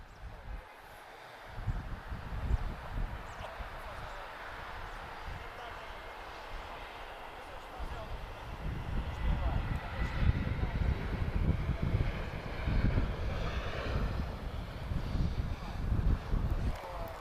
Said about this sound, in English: that was TP1824 arriving from Lajes. This is an A321neo